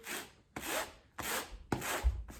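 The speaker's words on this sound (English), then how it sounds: "You can take the cheese grater and literally" A cheese grater scrapes across denim jeans to fray them, making four even, rhythmic rasping strokes up close with short pauses between them.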